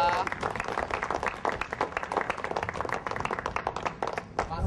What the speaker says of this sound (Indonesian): tepuk tangan dong, tepuk tangan dong